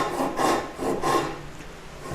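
A Ryobi 180 pull saw with a 180 mm blade cuts through wood for a live edge console table, giving two rasping strokes close by, each a rough scraping swell, then a softer trailing stroke.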